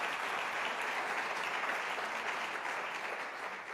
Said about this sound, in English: Good applause for that.